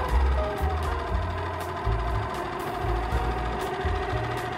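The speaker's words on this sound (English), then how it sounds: "All right, there's a neutral idle." A small Yamaha 2.5 HP four-stroke outboard motor idles in neutral. It keeps up a steady, low, chugging putter with a faintly uneven pulse and sits close and moderately loud throughout.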